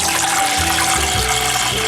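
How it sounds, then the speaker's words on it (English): Organic apple juice poured from a bottle into a cooking pot for Christmas wassail, a steady, loud, continuous liquid gush heard close up with no talking. "Just find some apple juice, and you just pour the whole thing in."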